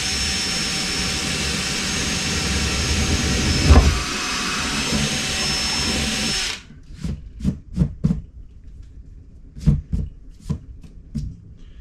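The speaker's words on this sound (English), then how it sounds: "Get yourself a 3/8 drill bit." A drill with a 3/8 bit bores mounting holes for turn signal relocation and saddlebag brackets on a Harley Dyna Super Glide, a loud steady whine for several seconds that cuts off, followed by sharp taps and knocks.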